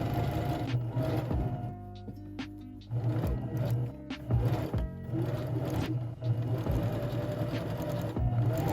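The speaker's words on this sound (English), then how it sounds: "I went ahead and just overlocked that and did like a little overlay stitch on it" An overlocker stitches the edge of knitted sweater fabric, a close, fast mechanical whirring and chattering that runs in bursts with brief stops and restarts, quiet overall with no talk.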